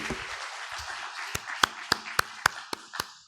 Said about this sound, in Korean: 우리 하나님 앞에 영광의 박수 올려드리겠습니다